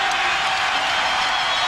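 A basketball arena crowd roars continuously during a 2001 Eastern Conference Finals Game 7 between the Bucks and 76ers, a loud, dense wall of cheering and whooping with no break.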